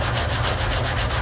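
A hand rubs a football steadily to add grip, making a continuous dry, rasping friction sound with a soft rhythmic back-and-forth pulse, close and even, without speech.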